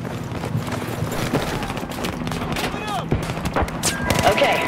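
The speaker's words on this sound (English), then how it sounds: "Heads up, firing!" Gunfire in Battlefield 4 crackles in sharp bursts of shots over a busy battlefield din, with voices and radio chatter mixed in among the reports.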